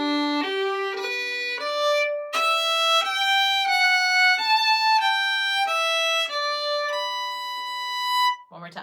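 Solo fiddle playing a phrase of The Burning House, a Cape Breton reel, in clear bowed notes with a steady reel rhythm, near and alone for about eight seconds before stopping.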